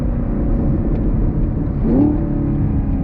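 A 2022 Chevy Camaro SS 1LE engine pulls steadily under throttle, a loud close droning rumble from inside the car that rises in pitch partway through as it builds power, with no talking.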